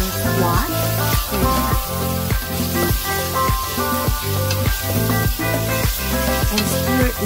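Squash sizzling in a hot pan along with sardines and bell peppers, a loud, steady, close frying hiss broken by regular scraping stirs about twice a second.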